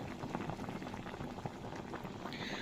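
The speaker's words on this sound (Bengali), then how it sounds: "তো দেখতেই পাচ্ছ এই যে আমার চালতাটা সুন্দরভাবে সেদ্ধ হচ্ছে" Elephant apple (chalta) pieces boiling in water in a kadai, a dense, steady bubbling and popping that stays close and even throughout, with no voices.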